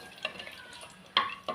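Ingredients in hot ghee sizzle softly, then a couple of sharp crackling pops burst out close by, one after another.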